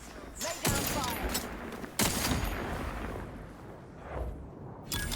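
Gunfire in the video game The Outer Worlds 2, several sharp loud shots and bursts at irregular intervals over a rumbling battle background.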